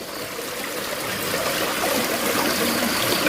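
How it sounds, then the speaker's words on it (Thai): Waterfall in Thailand, a steady broadband rush of falling water that holds even and fairly loud throughout, with no voices. "ครับผมก็มาเบิ่งน้ำตกที่กูไม่คู่ทักนะครับเด้อ"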